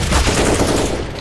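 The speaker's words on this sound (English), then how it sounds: "Are they actually shooting? They're shooting" A short, loud burst of rapid automatic gunfire in the game CS:GO, close and continuous for about a second.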